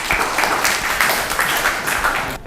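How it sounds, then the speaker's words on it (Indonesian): Classroom applause after student presentations in an Indonesian school, a short burst of loud, dense clapping from a group of students that holds steady for a couple of seconds. "Oke, beri tepukan."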